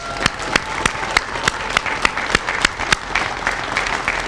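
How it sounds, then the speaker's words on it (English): An indoor audience claps for a new store manager at a supermarket grand opening, a steady patter of many hands with sharp individual claps standing out, sustained and fairly close. "let's give a round of applause for Craig, your new store manager, Craig Gross"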